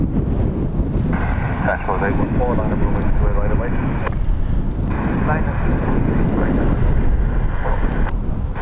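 A Qatar Airways Boeing 787 Dreamliner's jet engines roar loudly at Dublin Airport, a heavy broadband rumble buffeted by wind noise on the microphone, with a voice talking over it.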